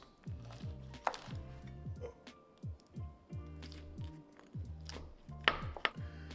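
A knife cutting a corner piece of cooled apple pie bread pudding in a baking dish, a run of soft rhythmic thunks and squishy chops, close and moderately loud.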